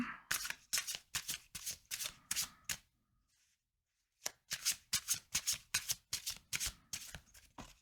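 Tarot cards are shuffled by hand in quick, rhythmic riffling bursts, close and crisp, with a short silent pause in the middle before the shuffling resumes.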